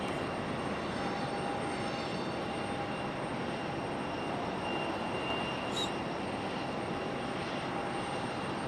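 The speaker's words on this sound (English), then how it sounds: "Here goes Aero Mexico back to Mexico City." An Aeromexico jet airliner departs Raleigh-Durham International for Mexico City, its engines giving a steady, broad roar that holds at an even level throughout, with a faint high whine running above it.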